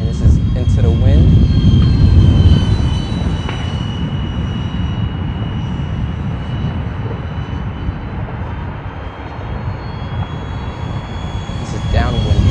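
A remote-controlled model airplane buzzes past close by into a gusty wind, its engine a steady droning whine that swells and then fades. Wind rumble runs loud throughout, and a person talks over it.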